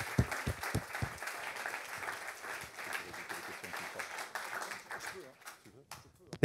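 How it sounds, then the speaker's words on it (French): Applause from a conference audience after a speaker, steady clapping for several seconds that thins out toward the end. "Je vous demande d'applaudir encore une fois Xavier Chiraud."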